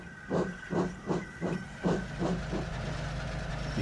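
Steam engine Donald puffs steadily, about six rhythmic chuffs of steam hissing, then settles into a continuous softer hiss.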